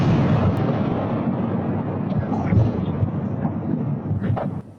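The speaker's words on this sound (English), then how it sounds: "talking about that explosion and the power of it" A massive deadly explosion in northwest Houston, a deep rumbling boom that rolls on like thunder and slowly fades, loud and distant-sounding, with faint background noise and no clear talk.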